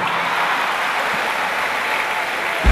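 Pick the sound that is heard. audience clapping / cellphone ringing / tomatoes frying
audience clapping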